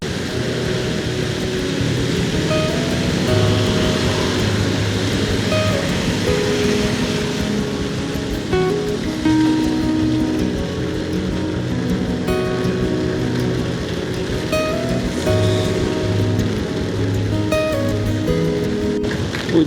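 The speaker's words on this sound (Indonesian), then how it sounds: "Hujannya lumayan deras guys." Heavy rain pours during a motorcycle ride through the Gumitir route between Bali and Bondowoso, a dense steady hiss of rain and wet road noise mixed with engine rumble, continuous and loud with no talking.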